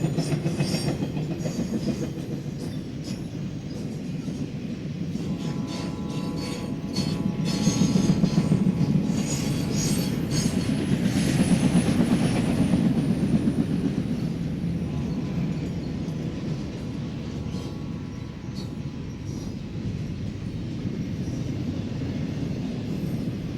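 A westbound TV9 intermodal freight train, carrying a block of trailers, rolls steadily past at close range, with a continuous rumble of wheels, rail clatter and faint squeals that hold for the whole stretch.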